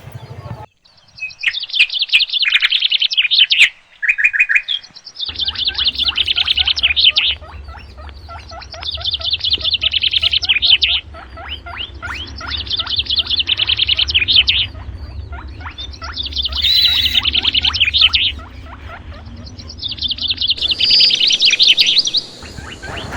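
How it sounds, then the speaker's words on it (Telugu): A flock of parrots feeding on fruit in a tree, loud shrill chattering calls in repeated bursts, close and continuous, with brief lulls between surges. "అమ్మో గుంపులు గుంపులు వచ్చేసినాయి అబ్బా దొంగ చిలుకలు"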